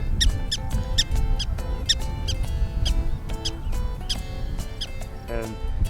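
Prairie dogs in a colony at Theodore Roosevelt National Park give rapid, repeated high-pitched chirping alarm calls in quick bursts. Several animals overlap in a steady stream of squeaky yips over a low rumble of wind.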